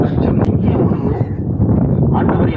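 Wind buffets the microphone in a constant low rumble at a beach by a church, covering everything else for a few seconds.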